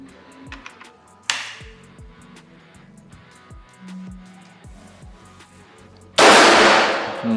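An air rifle test-fires slug pellets in a series of sharp, isolated cracks with quiet gaps, and a louder, longer burst of noise comes near the end.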